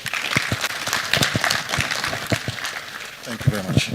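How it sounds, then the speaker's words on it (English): Scattered applause from an audience at a safety conference, uneven individual claps over a murmuring room, fairly close and moderate in level. "A round of applause one more time, please"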